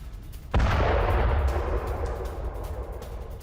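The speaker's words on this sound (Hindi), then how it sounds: "शहर में जोरदार धमाका हुआ है।" A missile strike explosion in Tel Aviv lands as one sudden heavy boom, then a rumbling roar that slowly fades over the next few seconds.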